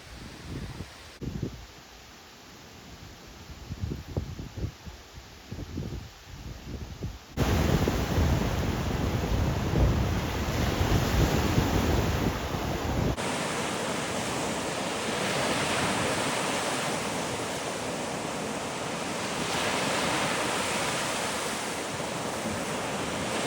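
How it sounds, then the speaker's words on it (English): Waves on an Ontario lake breaking on a beach, a broad steady wash of surf, loud and close, with gusts of wind buffeting the microphone; the sound jumps in level partway through. "The waves were really strong today"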